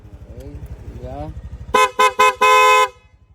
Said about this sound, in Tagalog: Sa businan ni sir, nilagay po natin PIA horn.